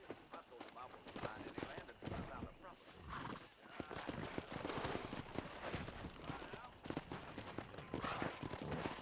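Horses in the video game Red Dead Redemption 2 gallop with quick clip-clopping hooves and snort and whinny close by, together with wind and busy game effects.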